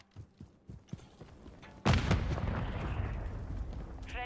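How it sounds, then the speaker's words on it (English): A grenade goes off with a sudden loud blast that rolls into a sustained rumble of battle noise and scattered gunfire in Call of Duty Modern Warfare III, following a few quieter thuds and shots. "Grenade out!"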